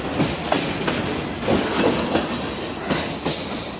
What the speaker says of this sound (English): So this train is now going to cross Petaluma River